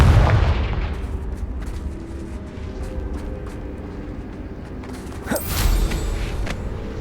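A Confringo fire blast spell cast in Hogwarts Legacy, a sharp burst near the five-second mark flaring over a rumbling, crackling game soundscape with scattered creaks and thuds.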